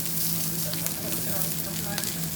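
Mutton sizzling on a Jingisukan grill in Otaru, Hokkaido, a steady close frying hiss with faint crackles and pops, no one speaking over it.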